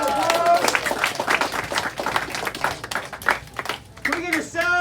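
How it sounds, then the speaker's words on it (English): Audience applause at a student gathering with freshmen present, a steady patter of clapping hands lasting the whole stretch, with voices mixed in over it. "Can we give Rez a round of applause for bringing the courage to go first?"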